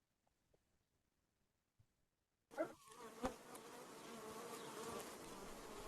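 Honeybees kept by a Croatian beekeeper buzz in a dense, continuous drone that starts abruptly after a few quiet seconds, with a couple of louder passes close by, and no voices.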